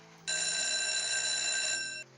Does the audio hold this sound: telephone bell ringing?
yes